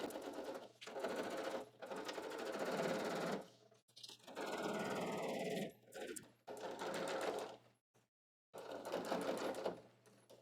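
A sewing machine stitches a fabric pocket in steady whirring runs, close and loud, with a few short stops and reverse stitches between bursts and no talking.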